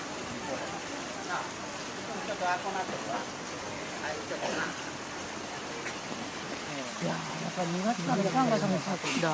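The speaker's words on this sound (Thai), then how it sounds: "น้ำตกจากกระบอกไม้ไผ่" Water pouring from a bamboo spout near a temple path in Kamakura, Japan, a steady close trickle heard under someone talking.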